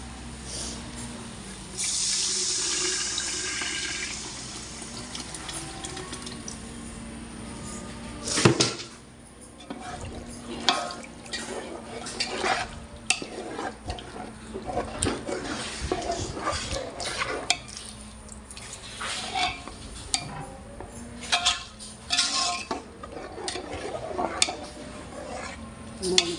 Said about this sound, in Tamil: புளி கரைச்சி வச்ச புளி தண்ணி எடுத்து இதை ஊற்ற போகிறோம்